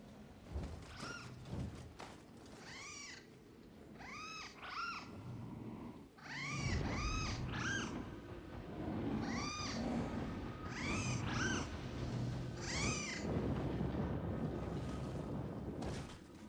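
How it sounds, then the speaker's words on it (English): Cat meows from the Nioh 3 video game, a string of about a dozen short rising calls in clusters of two or three over a low windy background hum. "Dog is curious about the cat noises."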